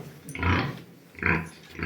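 Two low, rumbling grunts from a sow, close by, separated by a brief pause.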